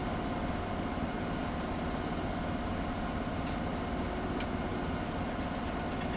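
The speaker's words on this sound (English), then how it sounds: "Looks like my tractor is stuck in traffic up ahead." Tractor engine idling in a traffic queue in Farming Simulator 17, a steady low rumbling hum that stays even and quiet throughout, with no talk.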